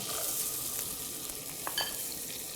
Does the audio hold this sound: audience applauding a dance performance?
no